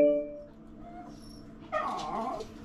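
A dog whimpers and yips indoors, eager to be let outside, with thin high whines at the start and a louder burst of excited whimpering near the end, in a room with a faint hum.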